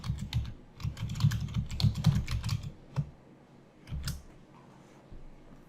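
Rapid bursts of computer keyboard typing, close and crisp, with a quick run of keystrokes followed by a pause and a few final taps.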